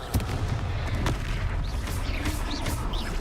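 Confringo spell blasts in Hogwarts Legacy, a series of sharp booming impacts and crackling bursts scattered through a busy combat mix, moderately loud, with no talk.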